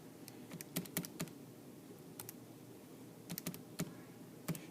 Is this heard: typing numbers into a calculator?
yes